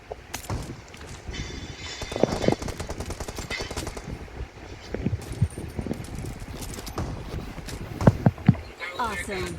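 Horse hooves clatter in an online shooter video game, a busy rhythmic clip-clop mixed with gunfire bursts while a player talks over it throughout.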